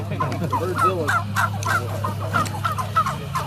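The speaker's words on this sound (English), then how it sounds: "we'll watch how Joel Salatin raises turkeys on pasture." A flock of turkeys on pasture keeps up a busy chorus of rapid clucking and gobbling calls, close by, over a low steady hum.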